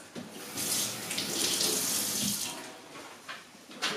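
Warm water runs from a kitchen sink faucet to wet a washcloth, a close steady splashing stream that swells and varies slightly as the cloth is held under it, with no talking.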